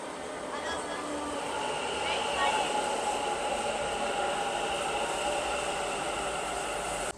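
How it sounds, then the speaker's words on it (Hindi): A Namma Metro Purple Line train in Bangalore rolls into the station with a steady mechanical roar and high whine, loud and close, sustained throughout before cutting off at the end. "सो फाइनली ये आ गई अपनी नम्मा मेट्रो।"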